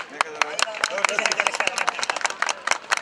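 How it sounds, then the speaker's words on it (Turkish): Scattered applause from a small gathering, with sharp individual claps that come sparse and uneven under lively nearby talking and calling out. "Alkış."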